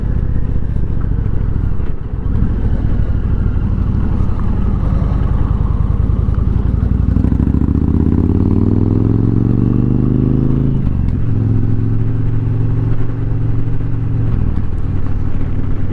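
An Indian Challenger motorcycle engine drones loud and close while riding, its pitch climbing steadily as it accelerates, then settling into a steady cruise hum.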